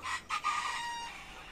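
Chickens in a poultry shed for 1200 to 1500 birds give a loud, drawn-out crow-like call after a short burst, close by, with no voices over it.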